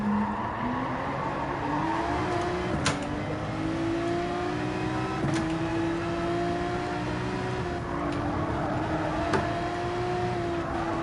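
A race car engine drones continuously from inside the car during a qualifying race, its pitch rising and falling gradually with gear changes, loud and close with faint road noise.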